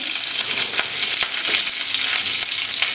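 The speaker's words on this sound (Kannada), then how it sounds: "ಎಣ್ಣೆ ಸ್ವಲ್ಪ ಕಾಯ್ದ ಮೇಲೆ ಸ್ವಲ್ಪ ಸಾಸಿವೆ ಹಾಕ್ಕೊಳ್ಳೋಣ ಸಾಸಿವೆ ಸ್ವಲ್ಪ ಸಿಟ್ಲದ ಮೇಲೆ ಕರ್ಬೇವು ಸೊಪ್ಪು ಹಾಕ್ಕೊಂಡಿದ್ದೀನಿ" Mustard seeds and curry leaves sizzle and crackle steadily in hot oil while an ash gourd buttermilk curry tempering is prepared, with a loud, continuous frying hiss and scattered sharp pops throughout, no voices.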